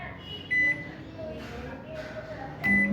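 A microwave oven heating a bowl during home cake baking: a low, steady running hum broken by two short electronic beeps, one early and one near the end.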